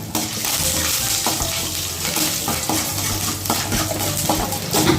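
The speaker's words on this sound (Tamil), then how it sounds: "பெருங்காயம் நல்லா வறுபட்டதுக்கப்புறம் கொஞ்சமாக கருவேப்பிலை சேர்த்துப்போம்" Curry leaves and asafoetida fry in hot oil, a loud, dense crackling sizzle close up, with spatula scrapes and clatter against the pan throughout and no voices.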